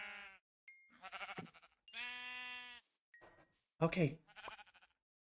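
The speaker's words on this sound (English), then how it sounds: "Probably gonna have to munch on some sheep." Sheep in the video game Minecraft bleat several times in short, distinct calls, separated by gaps, with a brief spoken word near the end.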